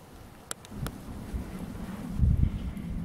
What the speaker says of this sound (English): It's pretty windy out right now.